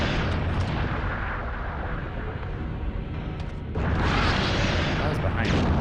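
Dense, sustained gunfire in Resident Evil 3 forms a loud roaring wash of shots that swells near the end, with someone talking over it.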